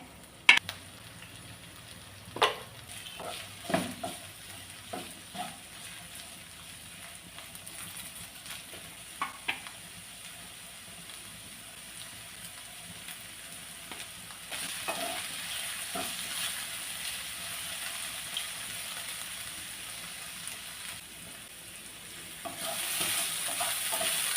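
Beetroot and potato stir fry cooking in a pan, with soft steady sizzling and scattered sharp scrapes and clinks of a spatula stirring, growing a little louder toward the end.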